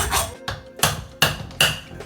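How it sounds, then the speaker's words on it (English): A hand saw cuts into a worn carburetor part from a Yamaha XS400 motorcycle. Five distinct rasping strokes come at a steady pace, close and fairly loud. "Resort to the trusty saw."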